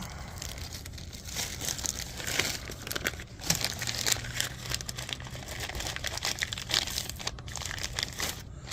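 A plastic bag holding oil pan studs for a 2000 Ford F250 7.3L is crinkled and handled up close, giving soft continuous rustling and crackling with a few sharper crunches.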